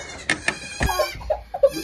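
Several short, high goat bleats in quick succession on a farm, close by, with faint rustling between the calls.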